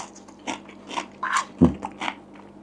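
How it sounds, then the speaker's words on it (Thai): Sharp, crisp bites and crunches of crispy food up close, with one loud crunch standing out among several softer chewing crackles and no talking. "กรอบนะครับ อร่อยมาก"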